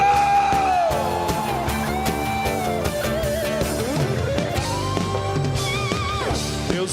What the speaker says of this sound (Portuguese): Quero ouvir o grito de júbilo.